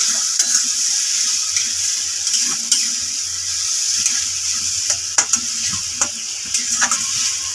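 Pointed gourd paste being stirred in a hot pan, giving a steady close sizzle with repeated scraping strokes of the spoon and a few sharp clinks against the pan, with no talk.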